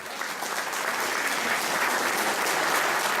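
A crowd at a Tour du Jura cycling awards ceremony applauds a rider, a dense, even round of clapping that holds steady throughout.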